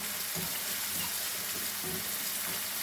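Ground meat sautés in a pan for spaghetti, a steady close sizzle with occasional stirring scrapes and no talking.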